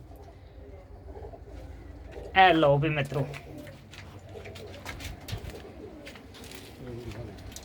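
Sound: pigeon cooing

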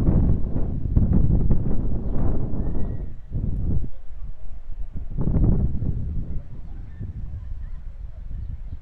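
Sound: strong wind

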